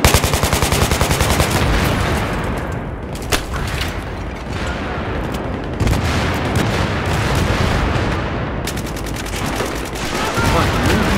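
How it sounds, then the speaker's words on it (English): Rapid bursts of automatic gunfire crackle almost nonstop in Battlefield 3 on the Operation Metro map, with heavy booming blasts mixed in, loud and close throughout. "Here comes the explosions."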